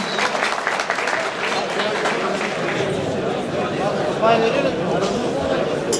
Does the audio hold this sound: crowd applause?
yes